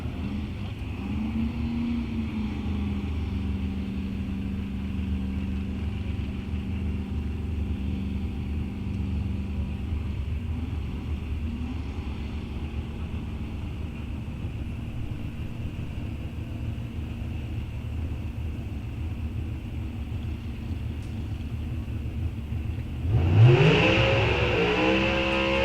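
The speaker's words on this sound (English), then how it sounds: "I hear cars firing up" Pro Stock drag racing cars at Rock Falls Raceway during an NHRA National Open, engines idling and rumbling steadily in the near distance, with one car revving sharply and loudly near the end.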